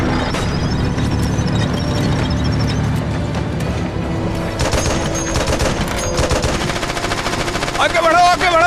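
Sustained machine gun fire in a Hindi-dubbed war film, dense, loud rapid bursts layered over a rumbling battle background, with shouted voices mixed in among the shots.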